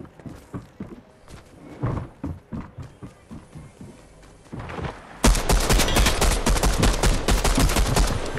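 Fortnite gunfire: a string of separate shots at first, then a loud, dense burst of rapid fire close by.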